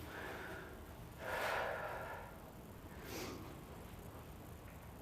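Two slow, deep exhales during a stretching and breathing exercise, the first longer and fuller around the second mark, the second softer about two seconds later, breathy and close over a quiet room.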